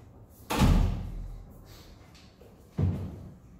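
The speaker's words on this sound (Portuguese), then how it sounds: "Fecha a porta." A door is shut with a heavy thud on an indoor set for a 2019 stage-style film, followed a couple of seconds later by a second, shorter knock.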